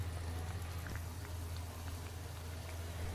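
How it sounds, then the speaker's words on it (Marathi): An anarsa frying in hot ghee gives a soft, steady bubbling sizzle with faint pops, quiet and continuous with no talking. "तूप गरम केलेलं आहे, त्याच्यात आता आपण हा अनारसा सोडणार आहोत"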